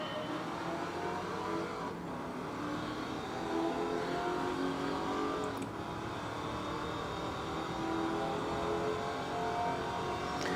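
Race car in Gran Turismo 7 accelerating through the gears at a race start, a continuous moderate engine drone with shifting pitch that holds steady throughout, no voices.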